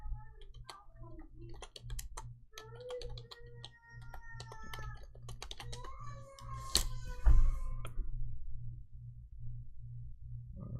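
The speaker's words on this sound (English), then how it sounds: "One of those like 2-in-1. It's got the mouse and the keyboard built into one." Keys clicking on a 2-in-1 keyboard with built-in mouse, a near, irregular run of light taps alongside a steady low hum and faint background music.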